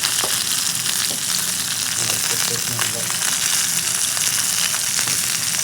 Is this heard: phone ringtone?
no